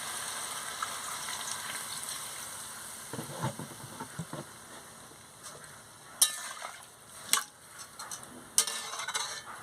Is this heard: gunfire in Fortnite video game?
no